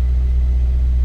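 A car engine left idling after an Accusump oil accumulator install, a steady low rumbling drone that stays even and close throughout, with no revving and no voices.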